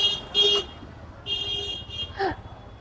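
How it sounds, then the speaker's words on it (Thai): Car horns honk in Ahmedabad street traffic, with several short toots and a longer blare spread across a few seconds over a low murmur of passing vehicles. "ฉันได้ยินแต่เสียงแตร"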